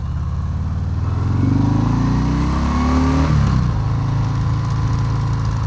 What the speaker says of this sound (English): This bike does make some pretty good noise stock